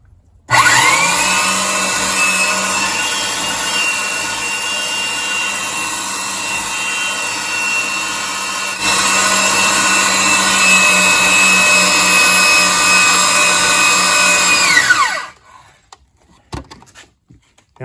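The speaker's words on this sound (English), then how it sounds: "Now it's very important when you thread a pipe like this" An electric pipe threader cuts threads on an oil-lubricated heating pipe, its motor whining in a steady, loud drone for about fifteen seconds, with a slight shift in tone partway through, before it winds down and stops.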